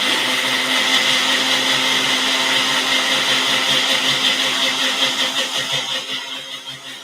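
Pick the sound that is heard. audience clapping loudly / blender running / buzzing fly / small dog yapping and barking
blender running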